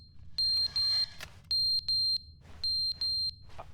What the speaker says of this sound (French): C'est le détecteur de fumée.